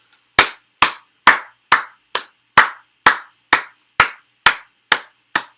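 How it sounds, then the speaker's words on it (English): A single person claps hands twelve times in a slow, steady rhythm, each clap sharp, close and loud, with silence between and no talk. "I gotta clap"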